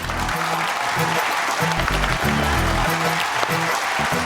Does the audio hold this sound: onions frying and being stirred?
no